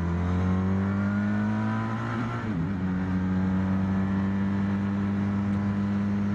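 A Honda VFR 1200 Crosstourer V4 motorcycle being ridden slowly through a bend, its engine a steady, loud droning hum that dips briefly midway before holding an even pitch.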